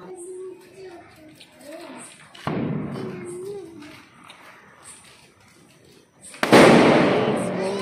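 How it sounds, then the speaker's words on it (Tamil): Two sharp firecracker bursts ring out several seconds apart during Karthigai Deepam celebrations, each loud and close with a lingering crackle, while a voice talks in between. "ரொம்ப ஹாப்பியாக வெடிக்கும் பட்டாசு வெடிக்கிறது."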